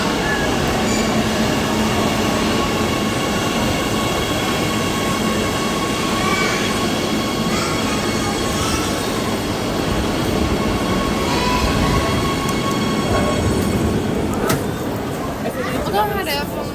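Train ride through Oslo, Norway on a national holiday, with constant loud rumble of wheels on track and a rising squeal near the end, while people talk over the noise.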